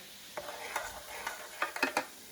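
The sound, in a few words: stirring a messy vinegar science experiment mixture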